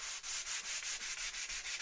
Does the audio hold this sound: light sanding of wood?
yes